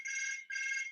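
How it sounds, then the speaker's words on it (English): A satellite phone rings with two steady electronic trills separated by a short gap, faint and alone with no talk. "We're getting a satellite phone call here."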